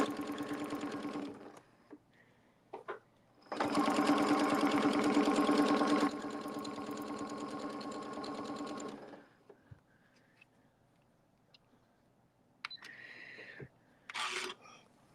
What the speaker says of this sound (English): I'm going to go a few stitches forward and a few stitches back.